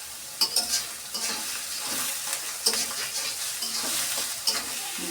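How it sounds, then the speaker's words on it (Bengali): Onions frying in a pan with a little salt, a continuous close sizzle broken by repeated scraping strokes of a stirring spoon against the pan. "পেঁয়াজটাকে ভালোভাবে ভেজে নেব"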